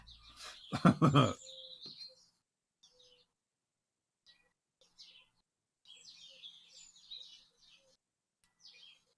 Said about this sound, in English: sparrows are the noisiest thing ever